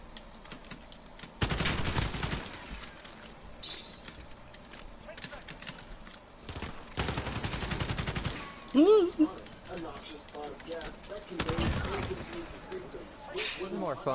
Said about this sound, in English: That's a machine pistol?